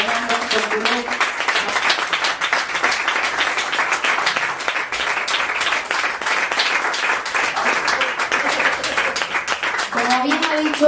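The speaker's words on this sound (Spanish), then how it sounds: "yo solo quiero pedir un fuertísimo aplauso a Julio Muñiz" An audience gives loud, sustained applause following a talk on untreated sewage discharges and corruption in the Canary Islands, a dense steady clatter of many hands lasting throughout, with voices faintly heard at the edges.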